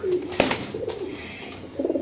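Black Lahori pigeons at a pigeon farm give low, soft coos in short repeated phrases, close by, with a brief louder flutter or knock partway through.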